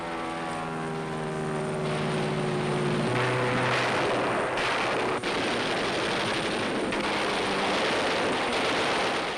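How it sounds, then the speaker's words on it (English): WWII Hellcat, Corsair, Helldiver and Avenger aircraft roar overhead in a dense, continuous engine drone that swells in places, with no voices. "Hellcats, Corsairs, Helldivers and Avengers began a dawn-to-dusk onslaught on enemy forces afloat and ashore."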